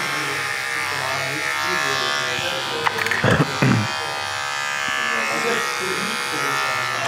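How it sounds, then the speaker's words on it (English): Electric hair clipper fitted with a one guard buzzing steadily through a barbershop skin fade, a continuous close hum with a brief louder burst of handling midway. "I'll take my clipper, put my one clip on, open it up all the way, and start just above this line and work my way down"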